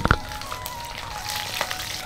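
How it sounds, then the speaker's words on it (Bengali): Black cumin seeds frying as a tempering in hot mustard oil in a wok give a close, crackling sizzle with a few sharp pops, fairly soft and continuous. "কড়াইতে দিয়ে দিলাম সর্ষের তেল, দিয়ে দেবো কালো জিরে, একটু ভেজে নেব ফোড়নটা"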